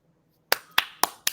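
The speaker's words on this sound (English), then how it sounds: "let's clap it up" Four sharp, evenly spaced hand claps ring out close and clear after a brief silence.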